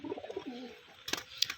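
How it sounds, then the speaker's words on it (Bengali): Pet high-flying pigeons coo softly in a few low, rolling calls close by, then a few sharp clicks and rustles follow. "তবু আমি দেখাচ্ছি পায়রাগুলো"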